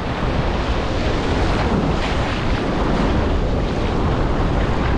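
Beach surf and wind on a fishing outing: a steady, loud roar of breaking waves mixed with buffeting wind against the microphone, continuous and without voices.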